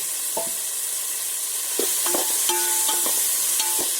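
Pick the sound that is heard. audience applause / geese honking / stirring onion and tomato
stirring onion and tomato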